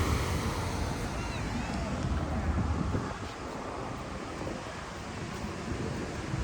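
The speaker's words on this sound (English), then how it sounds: "just enjoy this effect of the water going down the plug holes" Water pouring down the bellmouth plughole spillways at Ladybower Reservoir in the Peak District, a steady broad roar of rushing, falling water mixed with wind buffeting the microphone outdoors.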